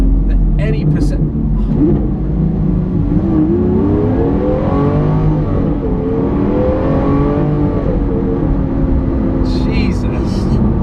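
The V12 engine of a Lamborghini Aventador SV accelerates with a loud, sustained, rising roar inside the car, and someone talks over it throughout.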